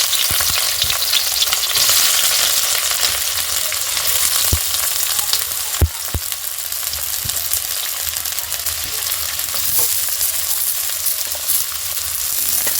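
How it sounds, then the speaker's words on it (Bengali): Chopped onions hit hot oil in a wok and fry with a loud, continuous hiss, broken by a few clanks of a utensil stirring them; close and steady, with no talking. "তেলটা গরম হয়ে গেছে, এখন এর মধ্যে দিয়ে দেব কেটে রাখা পেঁয়াজ কুচি।"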